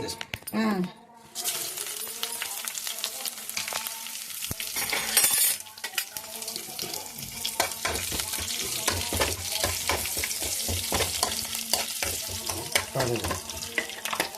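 Eggplant frying in a pan with peanuts, a steady close sizzle with frequent stirring scrapes and clatter, plus a short burst of running tap water early on and some talk underneath.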